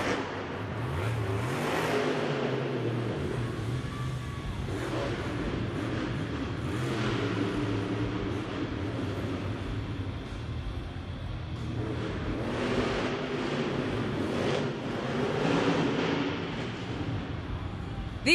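A monster truck engine roars and revs in a loud stadium arena at a Monster Jam event, rising and surging over a steady crowd din for the whole stretch.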